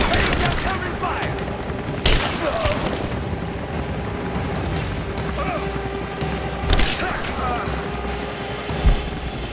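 Assault rifle fire crackles in a Tomb Raider game, a busy wash of shots with a few heavier bangs standing out and voices shouting over it.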